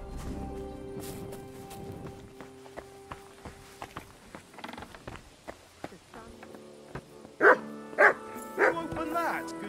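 A dog barks in the video game Kingdom Come: Deliverance II, a few loud close barks in quick succession near the end, set against game sounds and footsteps with voices talking earlier.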